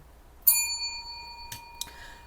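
A bright bell-like ding rings out with a sustained chiming tone, followed by two quicker, softer tones near the end, in an otherwise quiet setting.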